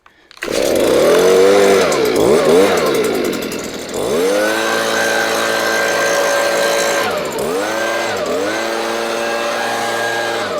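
A Stihl gas leaf blower starts up and roars steadily, its engine pitch rising and falling as the throttle changes, loud and close.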